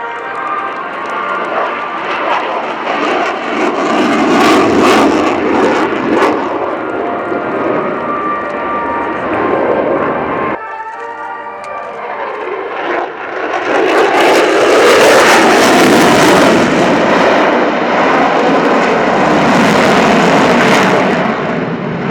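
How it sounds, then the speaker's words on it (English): Aircraft of the US Air Force Heritage Flight roar past at the RIAT Fairford airshow, a loud sustained engine rumble that dips briefly midway and then swells again as the formation passes close. "the United States Air Force Heritage Flight"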